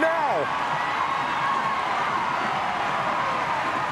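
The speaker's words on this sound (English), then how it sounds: "The crowd is roaring." A large stadium crowd at a women's professional soccer match, Orlando Pride against Angel City FC, keeps up a loud, continuous roar that fills the whole stretch, with a commentator's voice briefly heard at the start.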